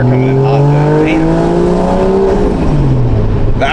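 A right-hand-drive JDM car revs hard, its engine pitch climbing and falling in loud harmonic sweeps, while tires squeal briefly near the end.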